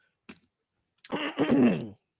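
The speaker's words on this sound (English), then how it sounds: "I cannot clear my throat on that." A short throat-clearing burst, then a longer rough, guttural throat clearing up close, alone with no talking.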